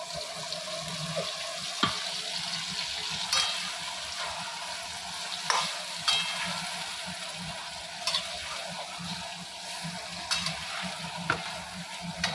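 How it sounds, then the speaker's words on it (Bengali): Chopped onions with ginger-garlic paste and green chili fry in a pan for potato biryani, giving a steady hissing sizzle broken by occasional stirring clinks and scrapes, close up with no talking. "পেঁয়াজগুলো দেওয়ার পরে এই যে মশলাটা আদা রসুন বেটেছিলাম কাঁচা লঙ্কা এইটা দিয়ে দিলাম"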